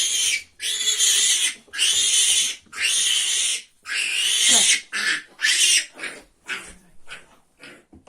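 A piglet squeals during vaccination, a series of loud, close, shrill cries that start long and drawn out and then break into shorter, choppier squeals toward the end.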